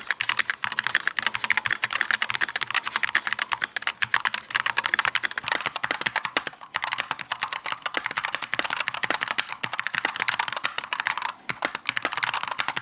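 Fast, continuous typing on a Wooting Two HE keyboard with a tape mod, a close, dense patter of muted keystrokes with no talking.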